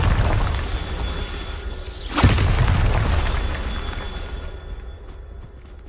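A Bombarda spell explodes in Hogwarts Legacy, a loud booming blast with a shattering crack around the middle, followed by rumbling debris that fades toward the end.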